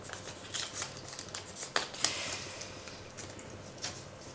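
A slightly crumpled paper banknote is handled and smoothed out, giving a few soft, close crinkles and rustles in short bursts against a quiet room.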